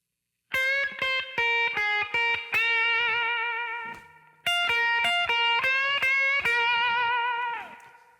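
Electric guitar plays a slow blues lick in old-school style, clean plucked notes and a held bend ringing out, a pause, then a second phrase trailing off.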